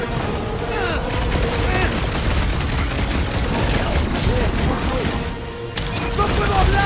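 Dense, rapid gunfire rattles during a driving sequence in the video game Marvel's Guardians of the Galaxy, continuous bursts with mechanical clatter and occasional booms, loud throughout.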